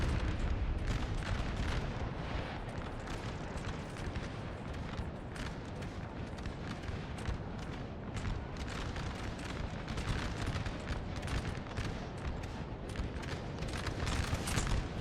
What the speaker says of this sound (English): They have artillery that's tearing you to pieces.